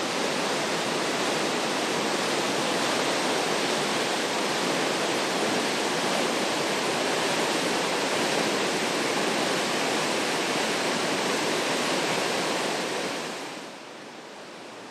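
Nigel Creek waterfall along the Alaska Highway, a loud, steady, broad roar of falling water that continues unbroken and drops away sharply near the end.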